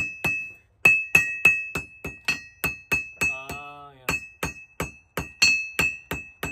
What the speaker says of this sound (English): And I'm hammering,